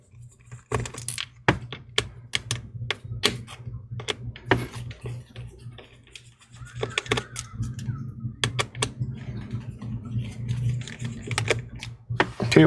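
A screwdriver clicks and ticks repeatedly while T8 screws are backed out of the bottom case of a MacBook Air A2179 laptop, with a steady low hum underneath and a brief pause midway.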